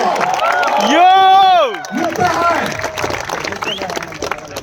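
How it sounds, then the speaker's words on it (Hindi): Audience at a Parul University event with MS Dhoni cheers and claps loudly, a sustained crowd roar with a rising whoop, followed by ongoing applause under a voice speaking. "एक बार जोरदार तालियां वो किंग उशाद अली जी के लिए"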